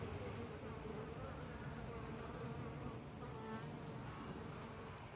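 Honeybees fly into the hive with pollen loaded on their back legs, a steady, close and moderately loud buzzing drone with no talk.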